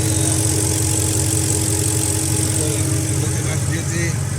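Mercedes-Benz ML55 AMG V8 engine idling up close, a steady loud low rumble with even, smooth pulsing that holds throughout without revving.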